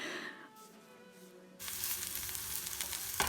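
Onions and garlic fry in a pan; a quiet stretch gives way to a loud, steady sizzle that fills the rest of the clip, with a brief clatter near the end.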